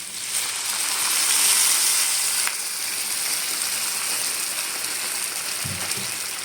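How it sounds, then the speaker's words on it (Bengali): Water poured into a hot wok of banana curry gives a steady, loud hiss and sizzle that eases slightly partway through and carries on evenly to the end. "আমার কলাটা কষানো হয়ে গেছে, এখন আমি এর ভিতর জল দিয়ে দেবো।"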